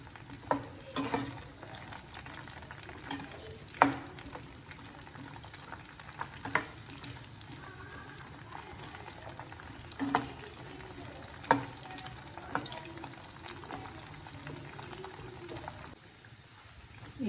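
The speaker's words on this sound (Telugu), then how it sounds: "మనము నీరంతా పోయేలాగా బాగా మునక్కాయలు ఆయిల్లో వేయించుకోవాలి." Drumstick pieces fry in oil in a pan, a low bubbling sizzle broken by occasional clinks and scrapes of stirring; fairly quiet and unhurried, with no voices.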